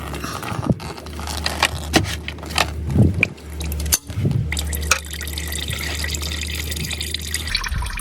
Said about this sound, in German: jetzt langsam das Kühlwasser ablassen